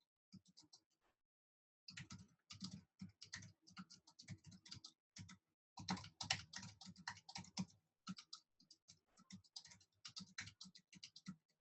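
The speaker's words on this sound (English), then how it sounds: "that's like the best typing I've done all week" Quiet, close keyboard typing on a computer comes in irregular bursts of rapid clicks separated by short pauses.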